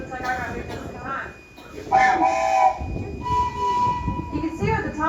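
At Tweetsie Railroad, the Thomas train gives tonal whistle blasts over the rumble of the moving rail cars, one long clear toot in the middle and shorter calls around it, close and fairly loud.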